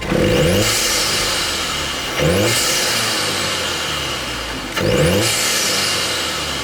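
A Volkswagen Polo GTI engine revs hard three times in a row during ECU mapping, each rise to high RPM followed by a slow settling hum, loud and close.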